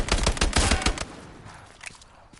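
Rapid bursts of gunfire from the World War II shooter game Hell Let Loose, loud and dense at first, then thinning into scattered distant shots and fading echoes.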